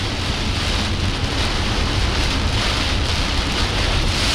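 Heavy rain pours steadily in a severe Queensland storm near Warwick, a dense, loud hiss of drops with low rumbling and gusting wind underneath, continuous and close with no voices.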